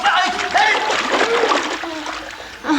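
Rain splashing and bubbling on water close by, a busy wet patter with voices mixed in.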